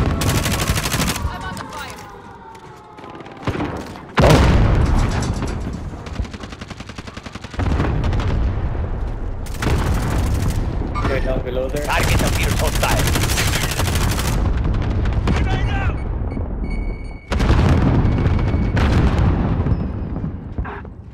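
Sniper rifle shots and surrounding gunfire in Warzone Resurgence on Rebirth Island: loud, sharp reports and dense bursts of firing with booming blasts, separated by a few brief lulls over a long stretch.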